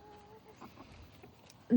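Chickens cluck softly in a coop, a few faint scattered clucks and murmurs ending in one sudden louder squawk close by.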